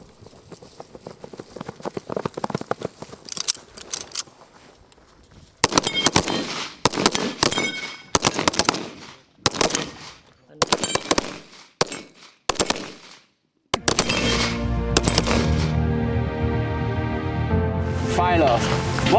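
Carbines fire during a military move-and-shoot shooting competition: sharp, loud shots in quick clusters with short gaps, outdoors, and a dense rattling burst near the end. Commands and talk can be heard between the shots.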